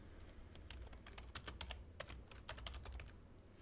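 A name is typed on a computer keyboard in a burst of quick, faint, irregular key clicks, close up with no voices.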